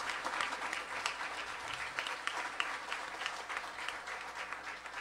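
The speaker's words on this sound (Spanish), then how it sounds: "¿Qué les parece si le damos un fuerte aplauso a nuestro Señor Jesús?" Steady applause from a church congregation at an Easter service, a dense continuous patter of many hands holding at an even level throughout without a break.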